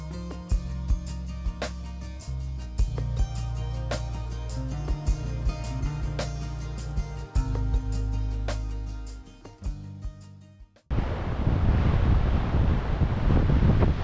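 Wind and breaking waves on West Sands beach in St Andrews, a loud, steady broadband rush that takes over abruptly in the last few seconds after a stretch of music.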